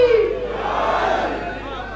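A crowd of worshippers at a religious gathering shouts slogans together in one loud surge that fades over two seconds, with no separate voice standing out.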